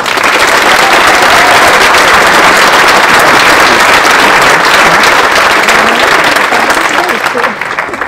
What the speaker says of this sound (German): dann ein Applaus für alle